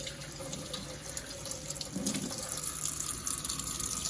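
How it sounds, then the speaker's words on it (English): Water runs from a tap into a kitchen sink fitted with a garbage disposal, a steady splashing hiss that swells a little louder partway through, with no talking. "I think it just meant that you have to let the water run"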